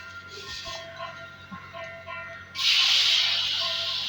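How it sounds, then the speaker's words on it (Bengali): Fish pieces, katla, frying in hot oil in a pan, a soft crackle that swells abruptly into a loud, steady broadband sizzle about two-thirds of the way through, with faint background tones underneath. "আবারও আমি মাছগুলোকে ভালোভাবে ভেজে নেব।"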